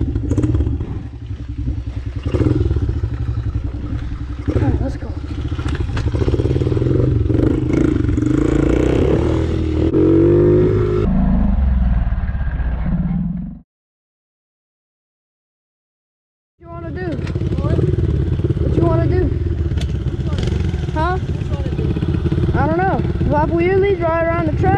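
A DRZ 110 dirt bike with a green rear tire rides wheelies around a dirt track, its engine buzzing and revving with rising pitch sweeps, cutting out briefly midway before roaring back, with talk over the ride.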